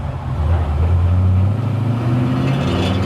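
A 1967 Toyota FJ40 Land Cruiser on 37-inch tires pulling away under acceleration, its engine droning loud and close with a rising pitch through the gear.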